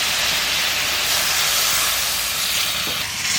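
Water added to a hot pan of bottle gourd and fish sends up a loud, continuous steam hiss that holds nearly level from start to finish.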